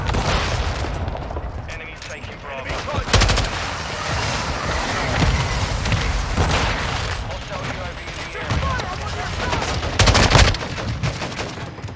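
Rapid gunfire from Modern Warfare 2 weapons, bursts of shots with louder cracks near the 3 and 10 second marks, continuous over game background noise with a voice talking over it.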